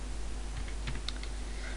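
A few quick, light computer keyboard keystrokes, apparently with keys sticking, click faintly over a steady low hum, brief and soft with no talking.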